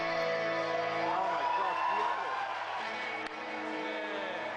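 A large convention crowd at BlizzCon 2008 cheers the Diablo 3 reveal, a sustained roar of whoops and shouts with someone speaking excitedly over it.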